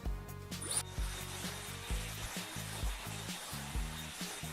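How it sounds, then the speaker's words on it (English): A hair dryer blows hair dry at home, its whirring hum broken into rhythmic pulses as it is moved back and forth, close and moderately loud. "You can also at home just flip your head upside down and start blow drying it."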